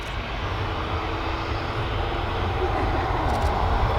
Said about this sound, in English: back to this ASL that's taxiing down to the end of runway 27.